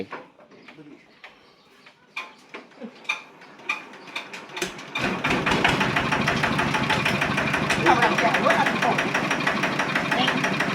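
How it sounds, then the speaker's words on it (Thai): A modified ride-on walking tractor's engine gets cranked with a few sharp mechanical clicks and knocks, then catches and settles into a loud, continuous rapid chugging idle. Birds coo faintly in the background before it starts. "ลองติดเครื่องดูนะครับ"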